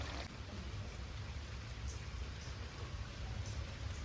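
Steady rain falls on a wet, rainy day, a faint, even hiss of drops on surfaces with no voices.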